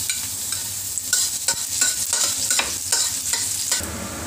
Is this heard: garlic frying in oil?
yes